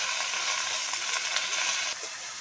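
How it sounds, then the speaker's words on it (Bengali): Pumpkin greens and potatoes sizzle steadily in a pan while they are sautéed, a close, constant hiss with faint stirring scrapes and no voices. "কুমড়ো শাক দেওয়ার পরে আলুর সঙ্গে কিছুক্ষণ কষিয়ে নিয়েছি।"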